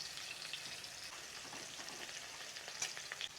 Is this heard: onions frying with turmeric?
yes